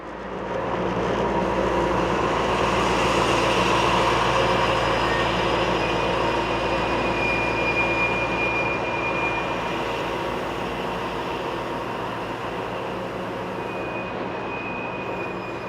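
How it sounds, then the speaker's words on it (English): A freight train hauled by a Class AE66 electric locomotive rolls past in a yard, a loud sustained roar of wheels and wagons with high-pitched wheel squeals threading through, gradually easing toward the end. "Freight trains arrive every 10 minutes or so. This one is headed by endangered Class AE66 number 11404"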